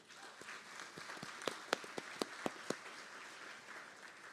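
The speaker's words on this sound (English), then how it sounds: "Please give yourselves a round of applause." Audience applause at an alumni showcase gala: a soft, steady wash of clapping from a crowd, with a run of sharper individual claps standing out near the middle before it settles back to a low patter.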